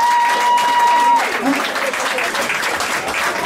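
After a band's song, a loud, sustained burst of audience applause follows a brief held tone and carries on to the end, with a voice and crowd noise heard through it.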